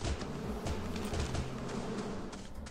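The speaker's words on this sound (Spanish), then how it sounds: "Y aquí hay abejas, pero bueno." Bees buzzing in a wild-taming video game, a faint steady insect hum blended into busy background game ambience, with no voices.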